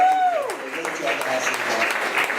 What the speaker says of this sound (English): Give us that round of applause.